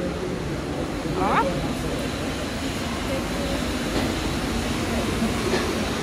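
A Paris metro train pulls into a station, its broad steady rumble and rolling wheel noise filling the platform, with a brief squeal partway through and faint talk in the background.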